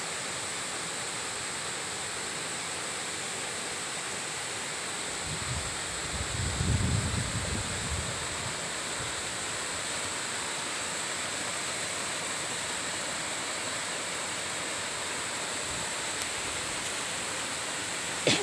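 A steady, broad roar of water falling down the seven-tiered Malanca waterfall in Indonesia fills the scene without a break, with a brief low rumble partway through.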